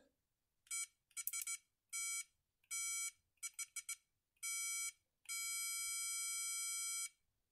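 A 1987 Siemens B1023 vintage digital multimeter gives its continuity test beep, a string of short, clear electronic tones followed by one long sustained beep, close and alone in a quiet room.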